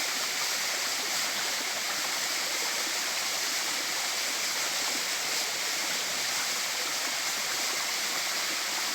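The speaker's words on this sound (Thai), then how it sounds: "น้ำตกตาดพี่น้องงามงาม" A Laotian waterfall roughly four to five metres high pours in a steady, dense roar of rushing water, unbroken and close, with no voices over it.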